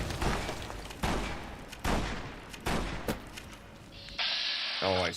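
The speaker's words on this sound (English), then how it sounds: "Somebody use a fucking grenade launcher!" Grenade launcher explosions and gunfire in the video game Fallout New Vegas, Lonesome Road DLC: a series of heavy booming blasts at irregular intervals over a dense battle din, loud and continuous, ending in a mechanical whir.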